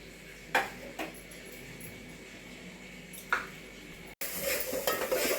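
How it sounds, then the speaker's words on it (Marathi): Ground masala paste is sautéed in a pan for a mixed vegetable dish: a few metal spoon clinks and scrapes over a low sizzle, then a sudden louder, brighter frying hiss as the paste hits the pan. "असं वाटण टाकलंय बघा परतायला"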